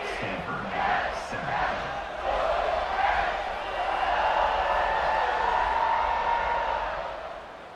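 A stadium crowd in the College Football 26 video game, Stanford at Clemson, roars loudly and steadily after a touchdown, swelling in waves, with a commentator's voice faintly under it.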